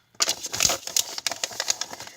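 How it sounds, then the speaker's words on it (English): Paper being folded and creased for a handmade journal, giving a run of close, crisp crunching and crinkling bursts that start abruptly and continue unevenly, with no talk. "And I just love the crunch of this paper."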